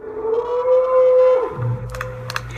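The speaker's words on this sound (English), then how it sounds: "That was an elk." An elk calling somewhere in the woods, a long, high, sustained whistling tone that slides off, followed by a lower note and scattered clicks and rustles.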